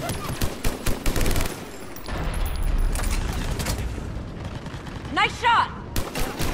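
Rapid gunfire in the video game Mass Effect Legendary Edition, loud bursts of automatic shots with sustained firing in the middle, while a voice calls out over the battle.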